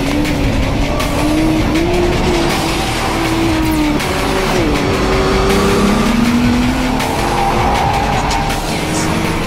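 Modified performance cars race at the 2009 Yokohama Superlap time attack event, engines loud and close with rising and falling revs, gear changes and faint tire squeal throughout.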